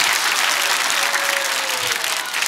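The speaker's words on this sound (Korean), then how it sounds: "박수 세게 쳐" Large congregation clapping vigorously at a Christmas worship service, a loud, dense, continuous burst of applause with no pauses.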